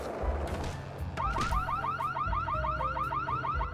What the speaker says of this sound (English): Wait, why are the alarms going up?